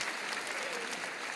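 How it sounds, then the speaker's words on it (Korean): A church congregation at a joint Easter service in Korea gives a brief burst of dense, even applause, moderately loud and heard alone. "잠깐 일어나셔서 박수로 환영해 주시기 바랍니다"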